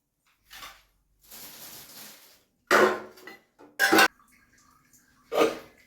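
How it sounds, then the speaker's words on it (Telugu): Pots and dishes clatter and clank while being washed. Sharp metallic knocks arrive in separate bursts between softer scraping and running water, close by and uneven in rhythm. "సో ఇప్పుడైతే గిన్నెలు కడుక్కుంటాను"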